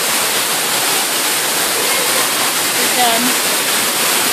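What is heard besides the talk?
indoor waterfall in a store cave area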